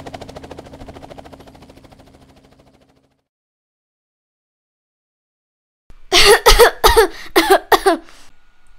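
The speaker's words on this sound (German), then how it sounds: "Der Husten hört sich nicht gut an." A child's cough comes as a cluster of sharp, loud, rapid bursts after a stretch of silence, following faint low sound at the start, in a Playmobil fire rescue scene.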